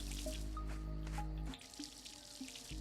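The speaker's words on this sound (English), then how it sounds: "So I kind of need to water them." Crops being watered in the farming video game Verdant Skies, with splashy pouring and dripping water effects over a low steady hum, several short watery plinks and drops in quick succession, no talk.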